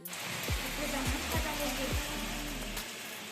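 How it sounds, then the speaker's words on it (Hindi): Heavy rain pours down outside a home in Dehradun, making a dense, steady hiss with a few low thumps mixed in. "ये देखो कितनी तेज बारिश हो रही है"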